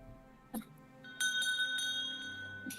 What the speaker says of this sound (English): It has a little bell.